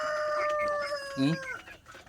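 Backyard chickens, some of them sick, are close by: one gives a drawn-out crowing call over overlapping clucks, loud and near for a couple of seconds.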